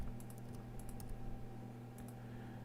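Keys clicking in a steady run of typing on a computer keyboard, close and fairly quiet over a constant low electrical hum, with bursts of keystrokes separated by short pauses and no voices.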